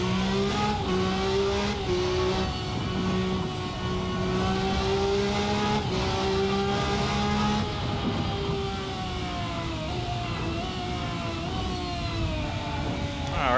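A race car engine in a sim racing game revs continuously, its harmonic drone climbing and dipping through the rev range, loud and close, with no talk.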